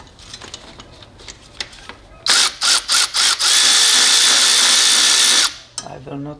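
A power tool drives in an alternator bolt on a Toyota Camry: several short buzzing bursts, then a sustained whirring run of about two seconds that cuts off, close by, with quieter clicks and handling before and after.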